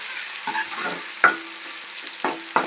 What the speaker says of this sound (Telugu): బాగా ఎర్రగా వేగల, ఎర్రగడ్డలు, టమాటాలు, పచ్చిమిర్చి బాగా వేగిన తర్వాత చికెన్ వేస్తున్నాం